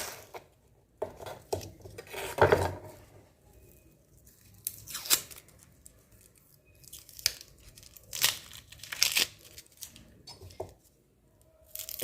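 A knife chops onion, green chili and carrot for a pasta dish on a cutting board in a home kitchen, giving irregular, close, crisp cutting strokes in short bursts separated by quiet pauses.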